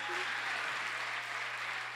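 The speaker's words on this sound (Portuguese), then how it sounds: "Aplauda Jesus." A church congregation applauds, making soft, continuous clapping that sounds distant and muffled, with a low steady hum beneath it.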